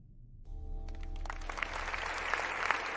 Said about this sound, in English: Applause goes to you from the Milky Way Planets League.